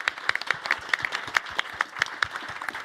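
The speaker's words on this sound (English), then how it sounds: "maybe big round of applause for everyone who is not here" A small conference audience at Codegarden 2024 claps for awarded MVPs, distinct individual hand claps in a loose, sparse rhythm, fairly close and moderate in volume.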